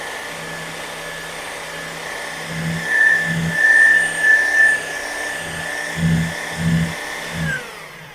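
A rotary buffer polishes freshly sprayed metal flake gel coat, giving a steady, close motor whine with a faint high tone that rises and dips slightly as pressure on the surface changes.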